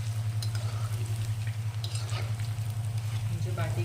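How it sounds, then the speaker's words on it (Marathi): Dal bati dough balls deep-frying in hot oil over a high flame, giving a steady close sizzle with bubbling crackles and a low electrical hum underneath. "आता आपण तेलात टाकून घेऊया. तेल तापलेलं आहे. तेल छान तापलं आहे. मस्त असं मोठ्या गॅसवर तळून घ्यायचं."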